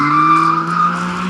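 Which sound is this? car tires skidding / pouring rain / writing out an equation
car tires skidding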